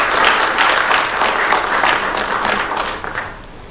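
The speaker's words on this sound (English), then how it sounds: "Kindly let us applaud Ambassador Simon Abukwesi." Audience at a high-level panel discussion on integrating the competency-based curriculum into higher education applauds a discussant. The clapping is full and close throughout and eases slightly toward the end.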